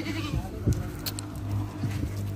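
Goats on a farm, including a doe that has just given birth, bleat in a few short, fairly close calls over a steady low hum.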